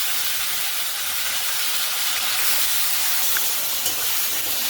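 Marinated chicken tipped into hot oil with cumin seeds, giving a steady, close hissing sizzle that runs evenly throughout with no talking.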